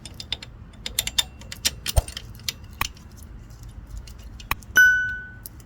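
Tools tighten bolts on a power steering pump in an Infiniti G37 engine bay, giving scattered metallic clicks, clinks and ratchet ticks at close range, ending with a sharper ringing clank.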